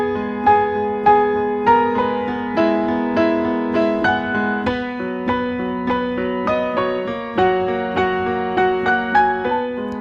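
A piano plays both hands of a song, with steady repeated chords and a moving melody over sustained low notes at an even moderate tempo, heard solo without voices.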